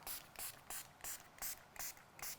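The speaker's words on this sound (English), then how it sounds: "Now I'm going to spray with alcohol to get rid of the bubbles on the top." Seven quick pumps of a spray bottle of alcohol onto melt-and-pour soap, short hissing bursts in an even rhythm, close and quiet.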